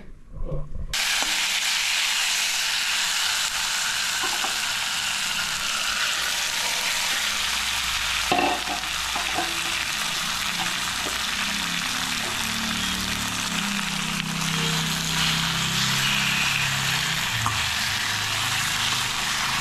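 Fish fries in a little oil for a spicy Naga-style fish curry, a steady loud sizzle with crackling spatters and occasional stirring scrapes, no one talking.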